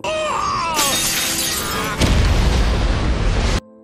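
A magic spell's whooshing, tonal buildup swells before a sharp shattering blast and crackling rumble, then cuts off abruptly; no speech.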